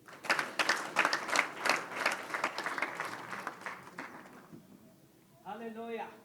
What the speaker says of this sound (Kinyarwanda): nabo tubakomera amashyi